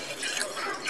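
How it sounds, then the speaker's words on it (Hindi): Water poured into a pressure cooker holding peas while preparing a pani puri filling, a steady liquid splash and trickle running continuously through the short moment. "देखिए पानी डालने जा रहे हैं।"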